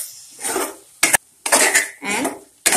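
Raw banana curry with fried potato and banana pieces is stirred in a pan, giving a few scraping, rubbing strokes broken by sharp clinks of the spoon against the metal, close and loud with no talk.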